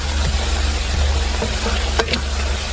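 A sauce mixture with fish sauce being stirred in a hot pan, a steady sizzle with a few scraping stir strokes and a brief clatter near the end, close and alone.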